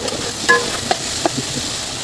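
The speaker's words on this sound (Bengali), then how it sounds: "তো এটা আমি লাল লাল করে ভেজে নেবো।" Chicken pieces frying in a pan with turmeric give a steady, close sizzle, broken by a few small clicks of stirring, with no voices.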